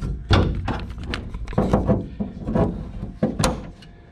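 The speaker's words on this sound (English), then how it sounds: "So you do the door shut and it's latched." The door of a Factory Five 35 hot rod truck is shut and latched several times, giving close, solid thunks and clicks of metal hardware in an irregular sequence.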